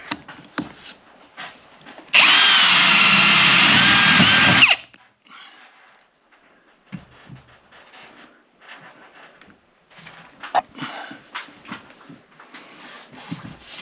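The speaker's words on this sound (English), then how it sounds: "let's get the drilling" A power drill whirs loudly for about two seconds in one steady burst, then stops, followed by quiet handling and clattering noises.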